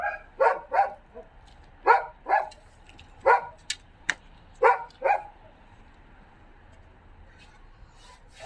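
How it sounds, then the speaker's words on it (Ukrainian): A dog barks repeatedly near a rooftop where slate roofing is being patched. It sounds in loud paired bursts with short pauses, fairly close, about eight barks before it falls quiet. "Ця собака бідна, вона тут скоро голос посадить."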